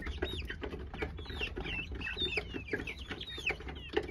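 Chickens and chicks on a small hen-raising setup cluck and cheep continuously, with high chirps from the young birds rising over lower hen clucks, close by and with no talking.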